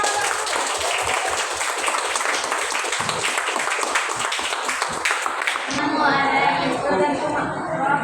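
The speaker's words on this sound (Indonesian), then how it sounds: "Tepuk tangan dulu untuk" A classroom of students claps for a presenting group, dense steady applause filling the room for several seconds before giving way to a voice speaking over quieter background chatter.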